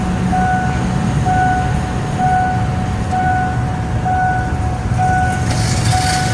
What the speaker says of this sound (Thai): ขบวนที่จะมานี้ก็เป็นขบวน633นะครับ